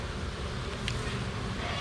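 Honeybees buzz steadily at an open honey-laden hive, a dense, continuous close drone with no voices.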